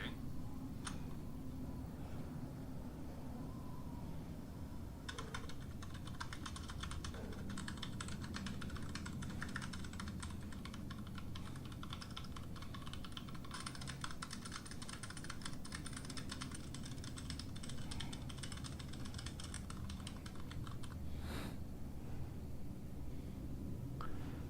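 Clear mechanical computer keyboard typed on in fast, steady bursts of clicky keystrokes, close and continuous for long stretches, with a low background hum and faint game sound underneath.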